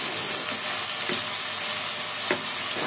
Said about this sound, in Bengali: তো আমি হচ্ছে মাংসটা আগে কষিয়ে নিচ্ছি, মানে মাংসটা বসিয়ে নিচ্ছি